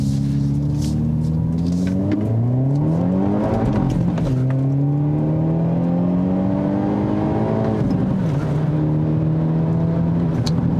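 A 2022 Hyundai Elantra N, a front-drive turbo sport compact sedan, accelerates uphill with a loud, steady engine drone that climbs in pitch through gears, dipping at each shift, heard from inside the cabin without talk.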